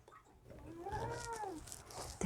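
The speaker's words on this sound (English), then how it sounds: "The cats are angry at each other today." A cat lets out one drawn-out, rising and falling angry yowl at middling distance in a quiet room, the kind heard when cats are squabbling, with a brief clunk at the end.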